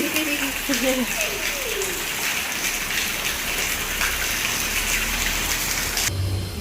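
Steady heavy rain pours down all day, a dense continuous hiss of drops hitting surfaces and water, close and even throughout, with brief voices and other sounds faintly underneath.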